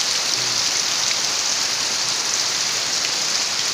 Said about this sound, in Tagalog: Guys, nalakas pa yung ulan.